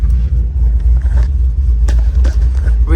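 A 2WD-swapped Yukon Denali drives along, its engine giving a loud, steady low rumble heard from inside the cab, with small shifts in tone as it moves through the gears.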